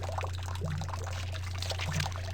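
Water pours steadily from a toilet in Corpse Party: Blood Drive, a continuous splashing trickle under a low steady hum, with a couple of faint short tones over it.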